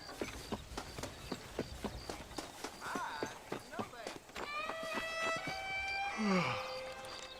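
In the Red Dead Redemption video game, a horse's hooves beat out a rapid, regular galloping rhythm that slows near the end, followed by a whinny and voices speaking over it.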